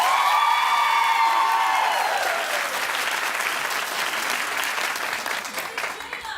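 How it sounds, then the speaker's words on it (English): A television talk show studio audience breaks into loud sustained applause with a few cheers, the clapping easing slightly as it goes on while the host's voice rings out over the start. "Clap if you don't."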